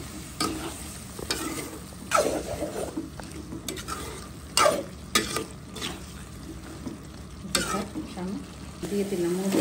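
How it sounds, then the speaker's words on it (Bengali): Eggplant stir-fried in a pan with spice masala gives a steady sizzle, broken by repeated scraping and clattering strokes of the stirring spoon, close and fairly loud throughout. "বেগুনটা একসাথে কষিয়ে নেব"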